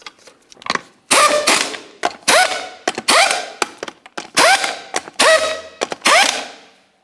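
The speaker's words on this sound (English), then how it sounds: "Start on all 6 of your 22mm lug nuts, bottom them out." Impact wrench running 22mm lug nuts onto a Chevrolet Tahoe rear wheel, loud repeated rattling bursts, each about half a second, close up with brief pauses between them.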